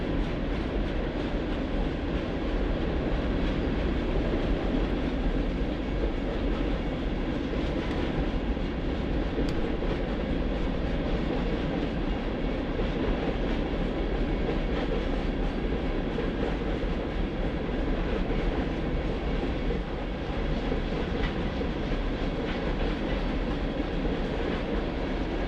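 A CN all-rail iron ore freight train rolls steadily along the rails, a dense continuous rumble and rattle of loaded cars that stays loud and even throughout with no pauses.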